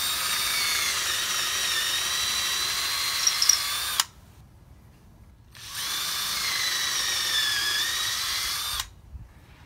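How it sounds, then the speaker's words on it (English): A power drill whines steadily for about four seconds, stops, then runs again for a similar stretch before cutting off while drilling holes in wood; close and loud. "I'm going to go ahead and drill my holes."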